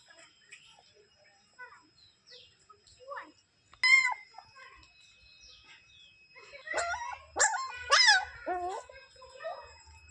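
A young puppy gives several short high whimpers and yelps, clustered near the middle and end, with a voice and quiet background activity, outside a village temple.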